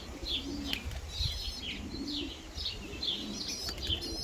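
Young racing pigeons flutter and coo close by in a loft, soft repeated coos rising every half second or so over bursts of flapping wings and a few sharp chirps.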